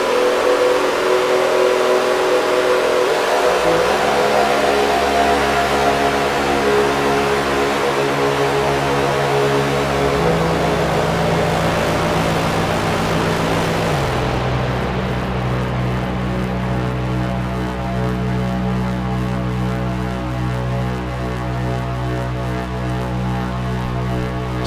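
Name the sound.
modular synthesizer patch with Buchla 259 modulating a delay unit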